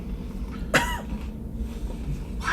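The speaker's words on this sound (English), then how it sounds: "Why does he keep coughing?" A man coughs once, a sharp, close burst of dry coughing that stands out briefly against a quiet indoor background, followed later by a softer throat sound.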